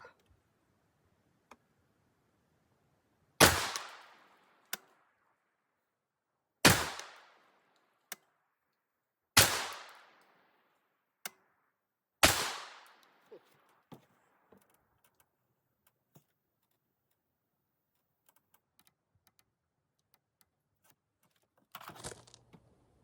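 Four loud rifle shots from a 5.56x45 rifle with a BCA 24-inch barrel, fired outdoors in a slow, evenly spaced string, each a sharp crack followed by a brief decaying echo, with faint handling clicks between and no talking.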